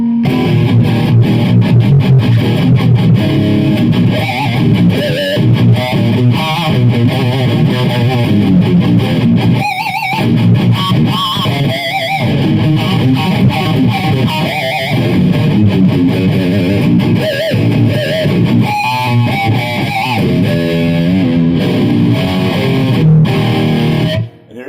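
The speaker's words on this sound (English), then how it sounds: "I'll play a little something to see if it sounds anything like Dimebag" A heavily distorted electric guitar through a multi-effects unit plays a sustained riff in a Dimebag-style tone, loud and saturated throughout, with chugging rhythmic palm-muted chords.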